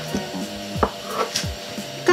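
Knife cuts through mandazi dough on a board: a few separate soft thuds and scrapes at an uneven pace, close and clear, with no talking.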